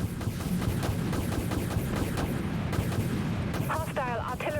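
Space ship video game combat with torpedoes launching and artillery fire: a dense, continuous barrage of booming blasts and rapid shots, loud and sustained, with a few synthetic whooshing tones near the end.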